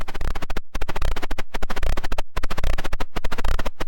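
A dense, buzzing Eurorack modular synth rhythm sent through a wave folder pulses rapidly and steadily, with harsh folded tones and short gaps punctuating the repeating pattern.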